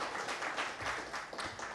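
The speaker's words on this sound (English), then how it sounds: "Give him applause." Brief applause from an audience at an academic short course, soft and fairly distant clapping that runs for under two seconds.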